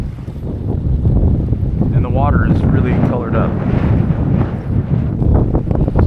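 Strong wind blows across a beach, a steady loud roar of gusts buffeting the microphone, with someone talking over it throughout.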